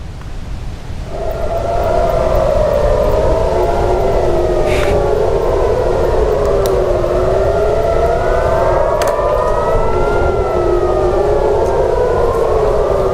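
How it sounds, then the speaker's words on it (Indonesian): Air raid warning sirens wailing across Tel Aviv during a missile attack: several loud sirens rise and fall in overlapping slow wails, sustained throughout, over a low rumble of city background. "membuat sirine peringatan meraung di seluruh penjuru kota Tel Aviv"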